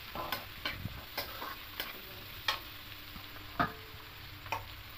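Pasta vegetables with chopped green chilli stirred in a pan, a utensil scraping and clicking in a steady series of separate strokes over a soft, quiet sizzle.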